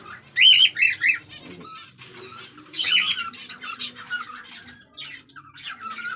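Pet birds in a cage squawk and chirp in sharp, shrill bursts close to the microphone, with brief pauses and softer calls between them.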